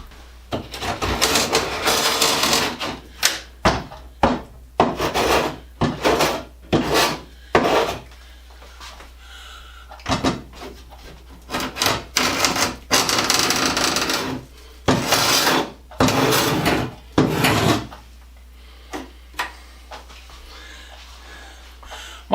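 A scraper rasps over a painted wooden bathroom door frame during a remodel, working in short repeated strokes with brief pauses, loud and close with a low hum beneath.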